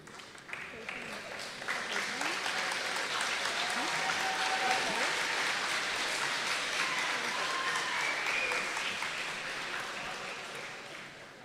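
Steady applause from an audience at a school awards ceremony, a sustained, moderately distant wash of clapping that swells and then gradually fades over about eleven seconds.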